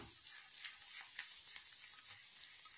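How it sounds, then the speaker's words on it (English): Chopped garlic sizzles and crackles steadily in hot oil in a pan, a close, even hiss with small pops throughout and no talking. "Throw your garlic in."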